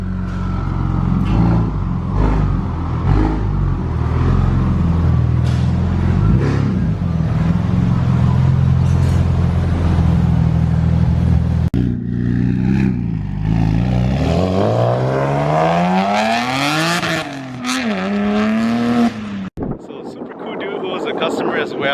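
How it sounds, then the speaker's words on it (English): A 700 hp BMW with a stock-block engine and a big single turbo revs hard at close range, with loud sustained engine roar, rising and falling harmonic sweeps and rapid rev changes, and wind buffeting the microphone. "Like say 700 horsepower stock block on a BMW, big single turbo."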